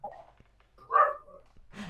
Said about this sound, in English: my dog started barking at the same time as I said